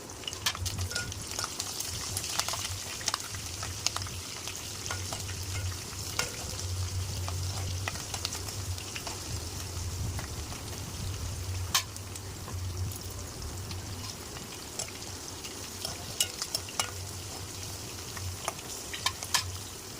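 Garlic and green chillies fry together in a pan with a soft, steady sizzle over a low hum, broken by scattered spoon clicks and scrapes at an even distance and without speech.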